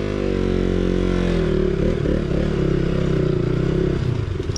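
A KTM Duke 200 motorcycle engine drones steadily while riding along a rough road, a loud, close, continuous hum with tones that shift slightly and some clattering toward the end, with no talk.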